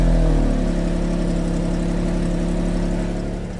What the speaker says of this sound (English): let's spark this up.